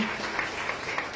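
An audience claps for Mr. Washington at a talk, a brief burst of dense, steady applause with no voices.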